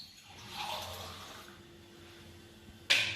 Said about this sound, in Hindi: पहले मैं नॉर्मल पानी डालता हूँ